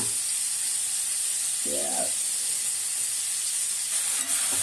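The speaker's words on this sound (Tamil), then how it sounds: "ஒரு ஸ்பூன் எண்ணெய் ஊற்றி அதை மட்டும் வதக்கிட்டு" Oil sizzles in a pan with a constant close hiss, unbroken throughout, and a short tonal sound rises briefly partway through.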